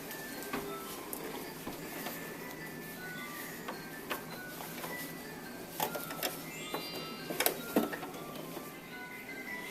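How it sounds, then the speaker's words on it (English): A sewing machine stitches together pieces of an owl pillow, its quiet mechanical whir and ticking running steadily throughout, with a few louder clicks and bumps toward the end. "you'll sew it on the sewing machine"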